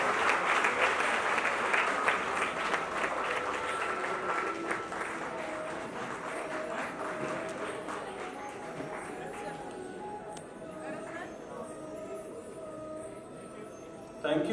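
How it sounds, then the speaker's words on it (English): An audience applauds, a dense sustained clapping that slowly thins toward the end, with faint talk and tones mixed in behind it. "Give a round of applause."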